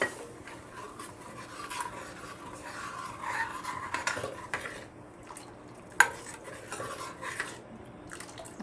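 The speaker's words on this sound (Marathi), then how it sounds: "परत छान हलवून घ्यायचं आहे" Fasting-style kadhi with rock salt and coriander stirred in a pot, soft scraping and rubbing of a spoon against metal in uneven strokes, with a sharp clink near the end.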